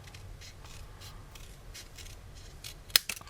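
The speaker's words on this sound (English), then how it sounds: "I'm cutting up and making this triangle." Scissors snipping through patterned paper while a triangle is cut out for a small decorative craft basket, with soft rustling and handling beforehand and a couple of sharp close cuts near the end.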